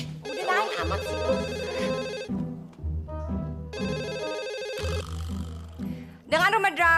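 A telephone rings in a family home, sounding as repeated bursts of bright melodic ringtone separated by short gaps, loud and close.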